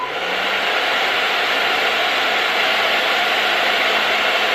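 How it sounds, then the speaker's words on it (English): A hair dryer set to cool heat blows continuously and loudly right up close, a steady full rushing roar that holds unchanged from start to finish. "Blow dry it until it turns clear"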